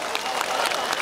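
A crowd applauds at an outdoor song-and-dance show in western Hunan's Zhangjiajie, a brief, dense burst of clapping that blends with voices.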